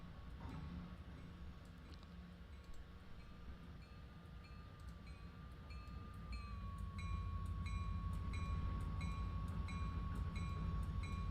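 A train on the Carrabassett Valley Railroad rolls steadily along the tracks with a low rumble that grows louder toward the end, a sustained tonal whine running above it and faint repeated ticks.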